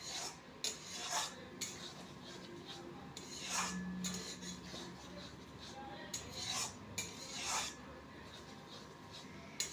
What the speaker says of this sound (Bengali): নেড়ে চেড়ে একটু মিশিয়ে নেব।